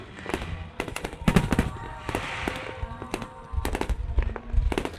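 Fireworks burst during a display set to music, with dense rapid cracks and booming thuds firing in quick clusters, loud and close, over a murky background of music and crowd noise.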